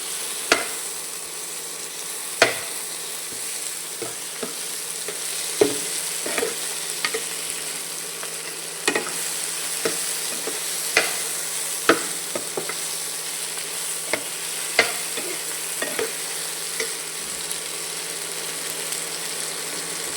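Tomato and onion sautéing in a pan with a continuous soft sizzle, while a spoon taps and scrapes the metal at irregular intervals, nearby and with no one talking.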